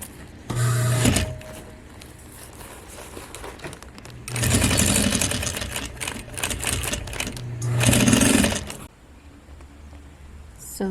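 A Juki DDL-8700 industrial sewing machine stitches through leather in three loud, sustained bursts of rapid mechanical pounding, separated by quieter pauses with a low background hum.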